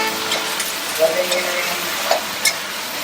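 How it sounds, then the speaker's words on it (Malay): A steady hiss and sizzle of frying in hot oil while making soy chilli sauce, with a few faint clinks and stirring sounds over it. "Kita goreng dulu. Kita panaskan minyak dulu."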